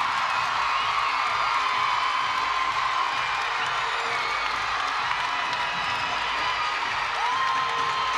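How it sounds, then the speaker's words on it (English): Big arena crowd at a college gymnastics championship roaring and cheering after a perfect score, a sustained loud wall of shouts, whoops and applause with no break. "The roar of the crowd was just deafening."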